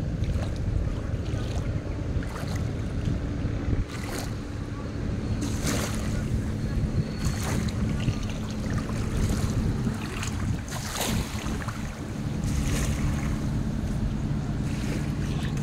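Boats and barges on a river near a village ferry landing create a steady wash of water and low engine rumble with passing swishes, continuous and moderately near.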